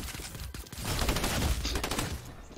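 Dense close gunfire in Fortnite, including pump shotgun blasts, comes as a rapid loud barrage of overlapping shots for a couple of seconds.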